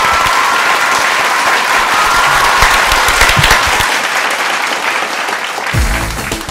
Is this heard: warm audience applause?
yes